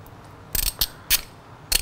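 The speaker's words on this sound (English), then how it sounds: "We have to loosen up the bolts that hold the clip-ons on and the triple tree clip bolts." A ratchet clicks as it loosens the clip-on handlebar pinch bolt on a Yamaha R3 motorcycle, in four short, close, metallic bursts separated by brief pauses over a low background hum.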